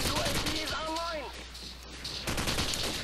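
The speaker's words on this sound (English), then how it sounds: "I like how I'm just hip firing, killing all these guys." Rapid hip-fired gunfire in Call of Duty 4, a fast fusillade of shots that keeps rattling through the whole stretch with a short lull in the middle, fairly faint and mixed with brief voice-like sounds.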